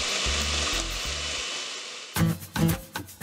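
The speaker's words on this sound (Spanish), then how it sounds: "Licúa todos los ingredientes con 2 tazas de hielo" A kitchen blender whirs in short pulses, then grinds loudly through margarita ingredients and ice in a few rough, choppy bursts, close and harsh.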